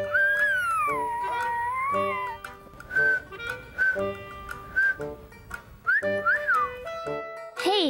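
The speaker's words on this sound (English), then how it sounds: "Can you whistle?" A child whistles a wandering tune, rising and falling notes, then short breathy bursts of whistling with brief gaps, close and fairly loud.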